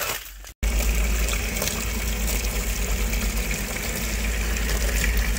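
Cold water pouring steadily over an iced-up HVAC unit to melt the ice, a continuous close splashing and gushing stream after a brief quiet moment at the start.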